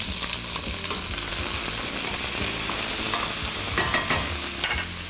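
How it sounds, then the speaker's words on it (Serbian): Meat frying and sizzling in a pot with chopped onion for Mostar-style kalja, a steady loud hiss with repeated stirring scrapes throughout and no talk. "Nakon poprilici 10 minuta u lonac na meso dodamo sjeckani luk"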